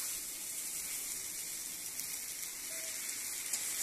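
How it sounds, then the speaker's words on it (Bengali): Young pumpkin with ginger being sautéed in a pan gives off a steady, soft sizzle with a hissing, watery quality, continuous and even throughout. "এখন একটু কষিয়ে নেব।"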